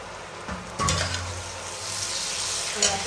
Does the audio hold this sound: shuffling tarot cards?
no